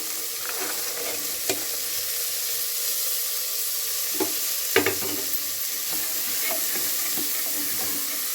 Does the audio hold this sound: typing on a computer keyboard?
no